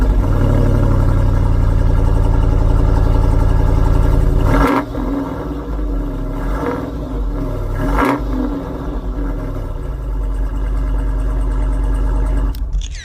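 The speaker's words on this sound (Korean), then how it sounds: "이게 바로 지프가 내야 할 소리지" A Jeep Wrangler 392 Hemi V8 engine fires up with a loud roar, then settles into a deep, rumbling idle with a few small blips, heard up close.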